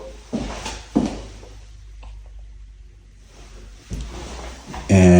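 Drawers in a walk-in closet slide and knock in a few short, close bumps spread across quiet stretches, ending in a louder burst of handling noise.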